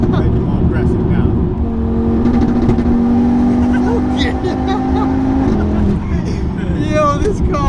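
A 520 bhp VW Golf Mk6 R fitted with an RS3 engine and running anti-lag drones loudly from inside the cabin, a deep engine hum with crackling pops, while occupants talk over it.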